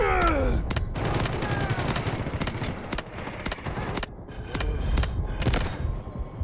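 Dense bursts of rapid gunfire in the video game Delta Force, sharp repeated shots crackling loudly over a busy in-game battle soundscape, with some quieter gaps between volleys.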